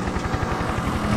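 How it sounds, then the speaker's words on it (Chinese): Helicopter in the racing game Need for Speed The Run, a steady rhythmic rotor chop pulsing continuously at moderate loudness for about a second, with no talk. "哦，直升机，"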